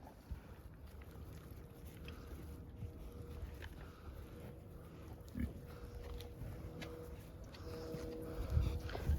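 Pigs grunt and oink faintly on a farm over a low, rumbling background, with scattered soft knocks and movement.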